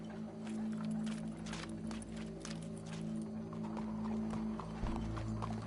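Horse hooves clip-clop steadily at a walking pace, close and fairly loud, over a low steady hum with faint background sounds.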